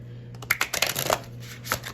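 A brief, close flurry of crisp tarot cards being shuffled, quick papery riffles and taps lasting about a second over a low steady hum.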